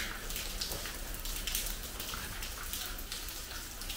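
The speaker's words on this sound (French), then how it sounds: "On attend que la pluie cesse." Steady rain patters on surfaces in a French village during a passing thunderstorm, a soft, even hiss of drops with no voices.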